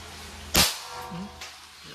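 A Crosman MagFire Ultra .22 break-barrel air rifle fires once, a single sharp close crack followed by a brief low thump and a short tail, with a few faint sounds after.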